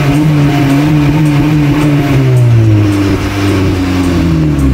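Car engine with its stock muffler still fitted, revving steadily and loudly up close, pitch climbing and falling through a continuous drone with no voices.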